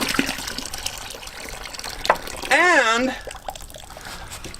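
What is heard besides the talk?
gallon of water poured into chicken feed bucket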